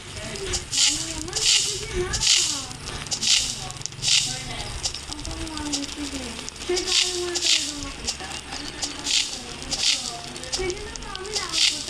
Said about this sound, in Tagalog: Daming apoy.